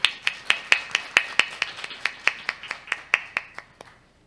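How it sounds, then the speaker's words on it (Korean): Clapping welcomes a speaker at a data trends conference, about twenty sharp, evenly spaced claps close by, slowing slightly and fading out at the end. "따뜻한 환영의 박수 부탁드립니다."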